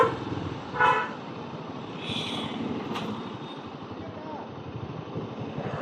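Busy road traffic near the beach at Konark in Odisha, with a short car horn toot early on and a steady hum of engines and street noise throughout; people talk nearby.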